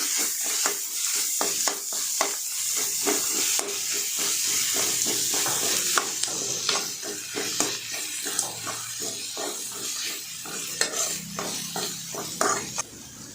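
Ground sour raw mango and onions fry in oil for a mango chitranna, a constant sizzle and hiss under repeated sharp scrapes and clinks of a spatula stirring the pan, close and without talk.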